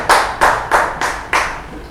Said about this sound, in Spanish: Dale un buen aplauso al Rey de la Gloria.